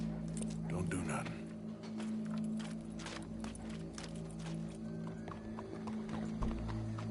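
Horses in Red Dead Redemption 2, with steady clip-clop hooves and a whinny on a constant game hum, while characters talk throughout.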